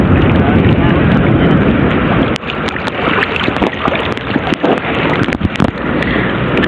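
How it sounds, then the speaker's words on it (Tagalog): Loud, strong southwest monsoon wind at a fishing spot in the dark roars continuously across the microphone, with sharp buffeting bursts and crackles throughout. "Grabe yung lakas ni hangin habagat"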